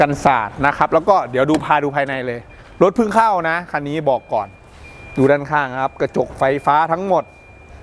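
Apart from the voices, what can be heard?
None of the usual background noises is heard.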